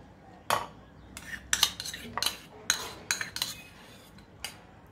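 Spoon scraping and clinking against a bowl while mayonnaise and ketchup are stirred together into a sauce, a string of sharp close metallic taps at an uneven rhythm over a quiet background.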